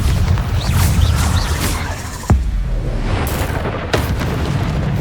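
A Bombarda explosion spell cast during combat in Hogwarts Legacy, a sharp booming blast followed by a second crack, set against a continuous rumbling battle din of game effects.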